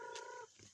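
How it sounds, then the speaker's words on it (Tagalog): Gamefowl roosters being set to peck at each other, heard in a very brief, faint, close clucking call with a tonal, vocal quality, followed by a short low rustle. "Ngayon magpapatokan na lang muna kami ng Mga manok"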